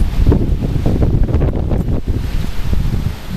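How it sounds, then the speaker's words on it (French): Strong storm wind at night in Clermont-Ferrand during Storm Kirk buffets the microphone with a loud, continuous roar and rumbling gusts, without pause and with no voices. "pas mal de vent pour ce soir, c'est mis en place durant la soirée"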